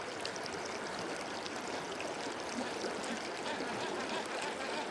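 A fast-flowing river in a forest rushes in a steady, dense wash of water, continuous and fairly loud throughout with no voices.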